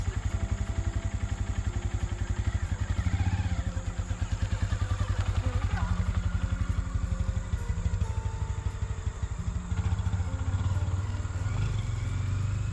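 Honda Grom small motorcycle running close by, its engine putting out a steady, buzzing mid-pitched drone for the whole stretch, with light clatter and no talk.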